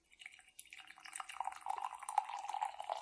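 Green tea pours into a big mug, a quiet close trickle that starts thin and builds into a steadier stream, soft and intimate with no talking.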